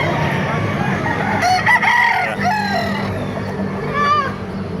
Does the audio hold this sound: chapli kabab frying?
no